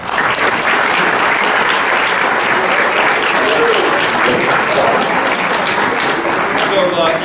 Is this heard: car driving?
no